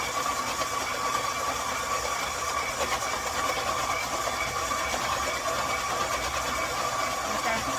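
A KitchenAid stand mixer with a chopper attachment runs steadily while onions are fed through it, a constant whirring motor hum that stays loud and even throughout.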